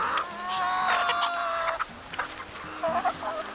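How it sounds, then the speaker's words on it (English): Backyard coop chickens cluck and make rising, warbling calls up close while pecking at bagels, with short clucks continuing in bursts. "Now let's watch the chickens eat some bagels."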